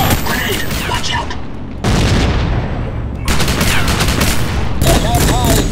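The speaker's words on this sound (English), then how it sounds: "Fire in the hole! Yes, sir! Grenade! Watch out!" Explosions and gunfire in the Rogue Trooper Redux video game, on a mountain pass level: loud, dense bursts of rapid shooting and booming blasts that come in three abrupt waves, with voices shouting in the game over the fighting.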